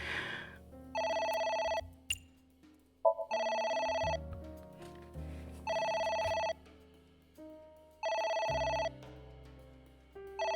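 A telephone ringing in the video game Ai: Somnium Files, loud electronic ring bursts repeating about four times at regular intervals, with quieter game tones and music between rings.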